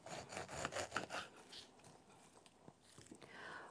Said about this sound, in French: je vais enlever les deux extrémités à l'aide d'un couteau à scie